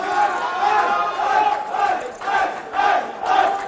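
Supporters at a poker tournament final table in Florianópolis chant and cheer in rhythmic waves, a dense crowd roar that swells and dips several times.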